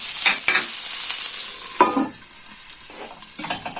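Onions frying in a pan for a Turkish saffron milk cap mushroom dish, a steady close sizzle broken by several sharp scraping stirs of a utensil, with no talking.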